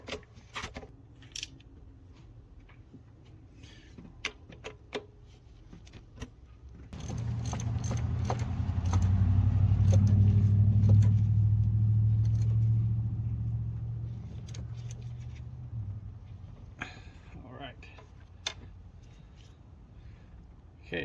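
A 2003-2007 Dodge Ram Cummins diesel starting after a fuel pressure relief valve replacement, fuel filter change and air cleaner cleaning: clicks and jangling, then a deep idling rumble that swells and later fades.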